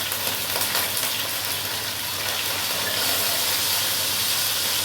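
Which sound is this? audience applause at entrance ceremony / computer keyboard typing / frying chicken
frying chicken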